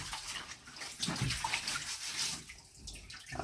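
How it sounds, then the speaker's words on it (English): Tap water runs steadily into a sink as ginger and lemons are rinsed under it, a close, continuous splashing with small shifts where the produce moves through the stream. "And then I'm going to rinse. I'm going to do the same with my lemon. I'm just going to wash them."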